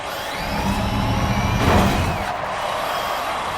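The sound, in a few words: Forza Horizon 5 car motor screeching like a jet, video game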